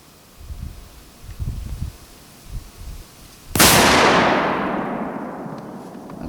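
A single loud rifle shot from a .270 bolt-action rifle fired at a target outdoors, a sharp crack followed by a long decaying echo, preceded by faint handling rustles.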